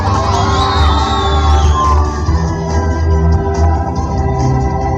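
Children at a birthday party at a resort shouting together in a loud, excited crowd, a sustained burst of yelling and cheering that dips briefly and then carries on.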